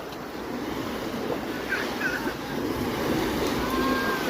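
On a calm morning at a sea beach, gentle waves wash softly and steadily under light wind noise, fairly quiet and even throughout with no distinct breakers.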